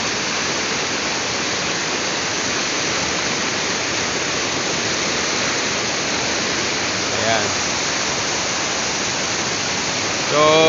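Steady rushing water flows loudly and continuously, a dense roar filling the whole clip, with a brief faint voice near the end.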